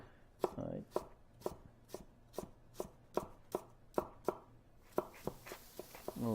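Root vegetables such as celery root and parsnip chopped on a cutting board, about a dozen crisp, evenly spaced knife strikes that speed up toward the end, close and distinct.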